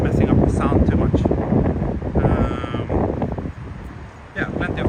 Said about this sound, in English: Oh, it's quite windy now.